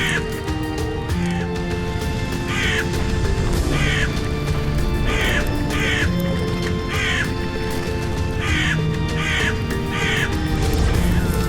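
A crow caws harshly again and again in short, evenly spaced bursts, loud and close, as it screams in pain while burning in an animated folk tale. Background music plays throughout.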